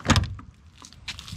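A car door on a Mercedes S-Class W140 shuts with one loud, close thud at the start, followed by quieter clicks and rustling.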